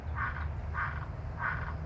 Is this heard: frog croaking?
yes